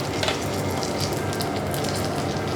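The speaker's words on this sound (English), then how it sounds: "A little bit of oil to stop the butter burning, and then I'm just going to colour off the shallot in the pan." Shallots colouring in oil and butter in a pan at a hotel kitchen, giving a steady, close sizzle with crackling spits that fills the whole stretch without pause.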